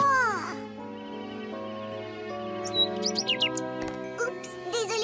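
A small cartoon bird gives a run of quick, high chirps and tweets over a continuous animated-show music bed, the calls coming in short bursts in the second half.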